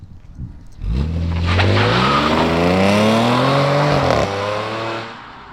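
A tuned Stage 1 Audi S5 B8.5 with about 420 hp accelerates hard, its engine rising loudly through the revs while the rear tire squeals and skids, then the note drops away as it eases off.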